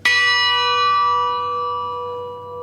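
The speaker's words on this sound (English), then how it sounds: "If I strike the bell again" A single strike on a church bell in Cambridge, a sharp clang that rings on with sustained, slowly fading tones, close and clear with no talk.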